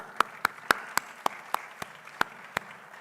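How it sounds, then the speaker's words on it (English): About ten sharp, separate hand claps ring out in an evenly spaced rhythm at a fall opening meeting, fairly close and distinct over a quiet background. "so a round of applause for that."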